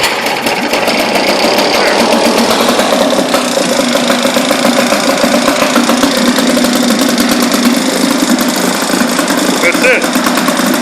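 A 1976 Sears Ted Williams 7.5 hp two-stroke outboard motor runs loud and close at a steady idle in neutral, with a constant rapid buzzing putter that holds without a break.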